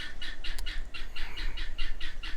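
Guinea fowl calling loudly and close by, a rapid run of harsh, repeated squawks in a steady rhythm over a low rumble, with no talking.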